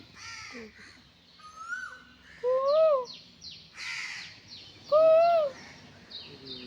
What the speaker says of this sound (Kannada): ಇಲ್ಲಿ ಕಾಗೆ ಮರಿ